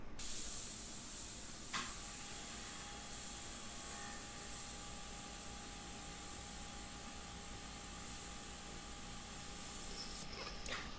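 A $149 airbrush sprays paint onto a portrait, a steady continuous hiss running throughout, close and alone, with a brief tap near the start.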